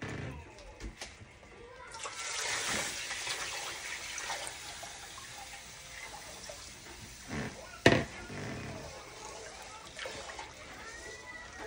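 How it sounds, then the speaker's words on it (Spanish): Water poured into a cooking pot for alphabet soup with rice and chicken broth, a soft trickling pour that swells to a louder splash, with a sharp clatter partway through. "Y vamos también a agregar el agua."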